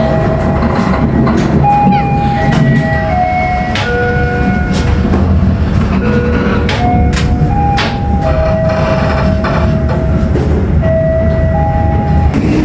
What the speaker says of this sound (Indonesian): kereta api Serayu diberangkatkan dari stasiun Leles setelah berhenti 2 menit